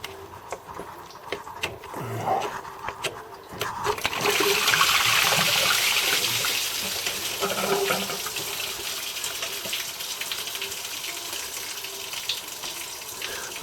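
Coolant water drains out of a car radiator. A few light clanks come first, then a loud gush of pouring liquid that settles into a steady, splashing flow for the rest of the clip.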